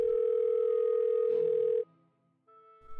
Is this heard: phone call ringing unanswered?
yes